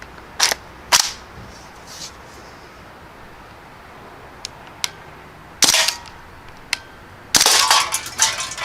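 Crosman Panther Arms DPMS BB rifle fired in semi-auto, a handful of sharp snapping shots spaced irregularly, a few in quick bursts, some louder and longer, with faint ticks and quiet pauses between.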